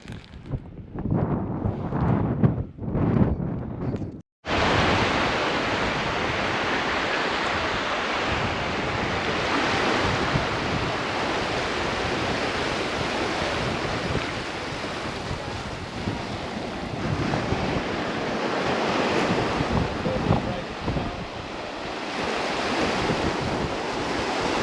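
Surf washes steadily onto the beach at Fowlers Bay, South Australia, a continuous loud roar of breaking waves mixed with wind buffeting the microphone, following a few seconds of gusty noise and a brief dropout near the start.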